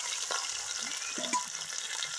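Onions frying in hot oil in a kadai for a pork dish, a steady close sizzle and hiss with faint stirring scrapes, with no talking.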